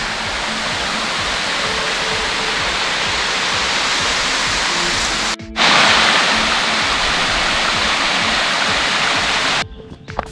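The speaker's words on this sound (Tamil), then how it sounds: "பக்கத்தில் நிறையா வாட்டர் ஃபால்ஸ் மாதிரி இருக்குது" Waterfalls beside a mountain hiking trail at Schafberg near Salzburg, Austria, a loud continuous broadband rush of falling water, close by, with brief dropouts in the recording.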